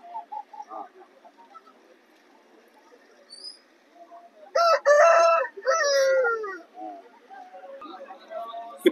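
Roosters at a poultry market give a couple of loud, close crowing calls in the middle, between quieter clucks and a low bustle of voices.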